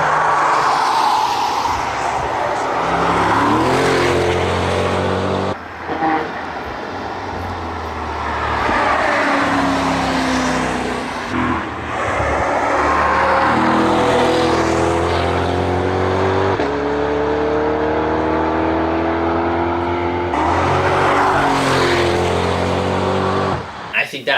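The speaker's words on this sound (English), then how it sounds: "Corvette was seen testing around the Nurburgring in full camouflage" Camouflaged mid-engine Corvette prototype with a GM engine lapping the Nurburgring, its engine repeatedly climbing through gears in rising sweeps and fading, with a person talking over it.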